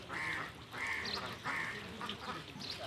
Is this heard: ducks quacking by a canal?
yes